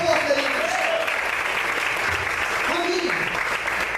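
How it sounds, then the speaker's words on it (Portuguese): A church congregation at a Portuguese-language service applauds steadily in a sustained wash of clapping, while a voice talks over it. "Aplaude o Senhor, queridos."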